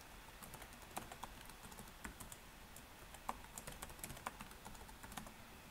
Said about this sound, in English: So I'll go ahead and put my password in, and I'll retype this to confirm.